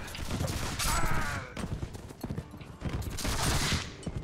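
Gunfire in the video game Mount & Blade With Fire & Sword: a battlefield clatter of scattered musket shots amid hoofbeats and crowd noise, dense and loud throughout.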